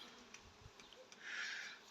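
A faint, distant hum of buzzing honey bees near flowering linden trees rises and swells briefly near the end, over quiet outdoor background with light ticks.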